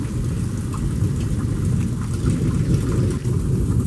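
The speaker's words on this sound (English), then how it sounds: "This is what a tornado sounds like." A tornado passing close by during a thunderstorm, heard as a loud, constant low roar and rumble like a freight train, with heavy rain pounding down throughout.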